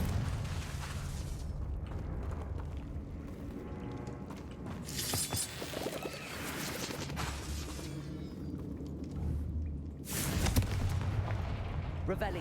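Confringo fire spell blasts from the video game Hogwarts Legacy, a run of booming fiery bursts with two sharp bright cracks among rumbling game effects and music, with some talk heard over them.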